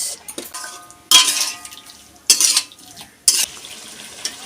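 A spoon stirs sweetener into a pot of mixed-vegetable sour curry, making three sharp clinks and scrapes against the metal with quieter stirring between them.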